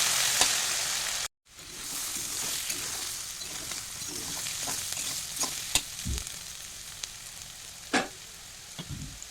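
Sliced potatoes for aloo bhaja being stirred in a hot pan: a steady close sizzle of frying oil, broken by scraping stirs and a few louder clanks of the spatula against the pan.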